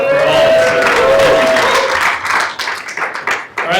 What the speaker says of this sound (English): Give Jeff a round of applause